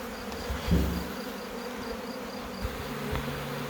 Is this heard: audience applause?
no